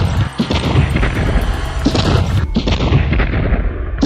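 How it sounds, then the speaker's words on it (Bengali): Loud, dense gunfire during an indoor massacre, with overlapping booming shots and crashing impacts in a continuous barrage, close and harsh throughout. "চারিদিকে তখন শুধু গুলির"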